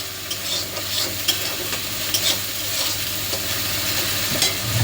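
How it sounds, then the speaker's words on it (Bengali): Onions frying in a pan for Kashmiri aloo dum, a loud steady sizzle with repeated scraping taps from stirring, close and continuous with no talk. "পেঁয়াজটা একটু ভাজা ভাজা হয়ে গেলে আমি আদা রসুন পেস্টটা দিয়ে দেবো"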